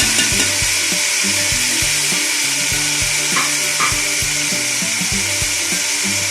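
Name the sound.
mutton being fried for degi biryani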